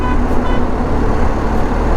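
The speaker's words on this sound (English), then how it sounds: "He's just playing with his horn." Horn of a BMW 1250 GS motorcycle, or a vehicle just ahead of it, honking on a road. It sounds loud and close over a dense roar of traffic and engine noise.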